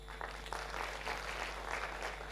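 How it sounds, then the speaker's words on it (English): Audience applause for the medical profession during a motivational talk, a brief burst of clapping heard at moderate distance over a steady background hum, lasting a couple of seconds. "Absolutely, they deserve a big applause."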